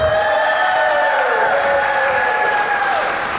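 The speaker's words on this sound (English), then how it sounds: "how about a round of applause for our contestants?" Loud, dense applause from a wedding reception crowd cheering on the contestants of a couples' shoe game, sustained clapping filling the whole moment with a few whoops, continuous and close.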